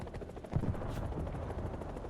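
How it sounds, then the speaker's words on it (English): Video game helicopter under anti-aircraft gunfire, a dense rumbling rotor drone with a burst of impacts near the middle, continuous and close, no talk. "I'm also being shot by the AA."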